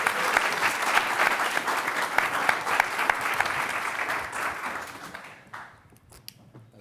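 A demo day audience gives a startup team a sustained round of applause, thick and steady for several seconds before tapering off into a few scattered claps and near silence.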